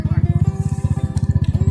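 A motorcycle engine on a mountain road between Fikkal, Ilam and Taplejung throbs loudly and close by, its rapid, evenly pulsing beat steady throughout.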